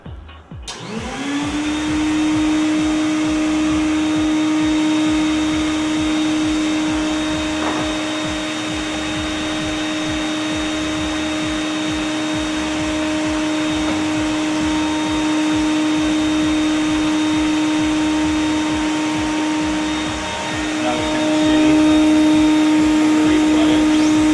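A loud, steady suction roar runs continuously with a constant high whine, like a vacuum blower, with a brief clunk partway through.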